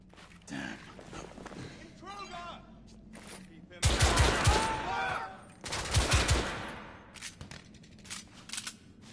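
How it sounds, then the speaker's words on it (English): Gunfire in the video game The Order: 1886, with two loud bursts of rapid shots in the middle, the second shortly after the first, plus quieter clatter and spoken voices around them. "Gunfire was coming from that tunnel."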